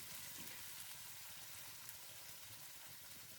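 Chicken and carrots fry in a pan with a steady, close sizzle, a continuous hissing crackle that carries on evenly without any talking.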